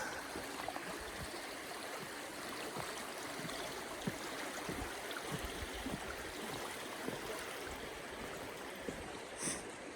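Creek water running beneath a log on a fall hiking trail near Green Lakes Trailhead, a steady broadband rushing and gurgling that holds at an even level throughout, with a few soft footstep thumps mixed in.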